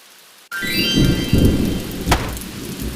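Heavy rain suddenly roars in as a dense, steady hiss, with a sharp crack of thunder partway through.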